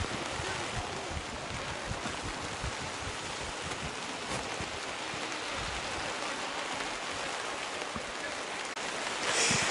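Heavy rain pours steadily over an outdoor rugby field during a reserves match, a dense, constant hiss of drops and wind noise with brief commentary barely surfacing.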